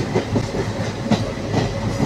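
Satluj Express ICF passenger coaches run on rails between New Morinda and Mohali, a steady close rumble with rhythmic clickety-clack of wheels over rail joints, heard from inside the train.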